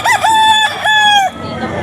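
A Boston gray grotto rooster at a pet market crows once, loud and close, its long harmonic call rising and holding before breaking off.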